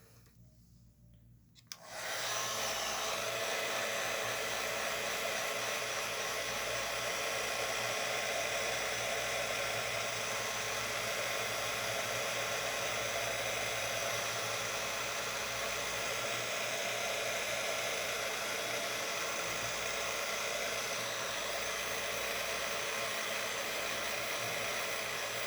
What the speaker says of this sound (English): I'm just gonna hit this with the heat gun one more time and make sure it's dry